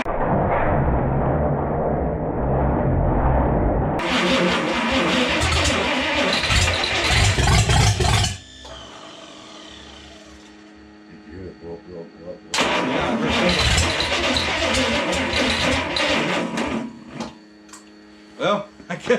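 A long-dormant Chrysler 241 Red Ram Hemi, choked on its first start attempt, cranks in loud bursts that stutter and die, separated by quieter gaps, with people talking in between.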